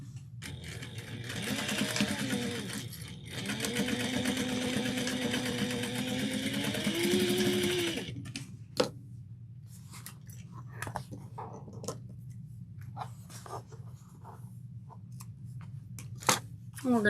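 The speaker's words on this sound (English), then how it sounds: "let's sew this at 3/8 of an inch" Sewing machine stitching a tote bag seam at a 3/8-inch allowance: a steady motor whir for about eight seconds, broken by short pauses, then quiet handling and fabric rustle.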